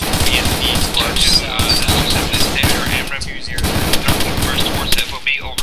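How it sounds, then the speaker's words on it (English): Heavy machine gun fire from enemy positions in the ARMA 3 military shooter rattles in rapid, continuous bursts, loud and close, layered with other gunfire and a brief voice calling out over the shooting. "Enemy machine gun."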